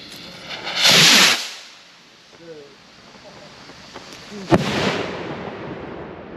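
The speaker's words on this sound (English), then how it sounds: "these are the best rockets that you can buy" Fireworks rockets launching with a loud whooshing hiss, then sharp explosive cracks and booms, followed by a lingering rumble and faint crackle outdoors, with brief voices in the background.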